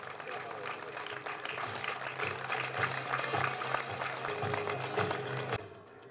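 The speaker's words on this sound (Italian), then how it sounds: "Un bel applauso." Audience applause at a sports awards ceremony honouring officials and athletes, a steady wash of many hands clapping that fills the room for about five seconds before tapering off, with voices mixed in underneath.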